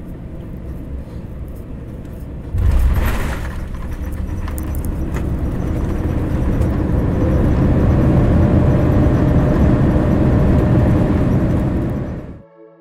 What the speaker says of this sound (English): Enjoy our landing at DFW on runway